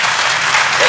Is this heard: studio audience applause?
yes